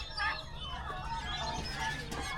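Faint turkey gobbling and clucking in short bursts on a farm, a little distant, with low background noise.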